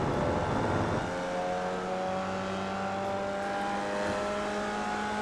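Formula Vee race car in iRacing at Winton, engine note climbing steadily through the gears, a loud, sustained close-up drone with rising harmonics and no talking.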